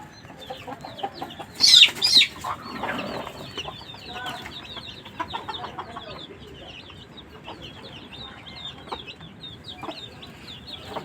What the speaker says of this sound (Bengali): বাচ্চা সহ মুরগি।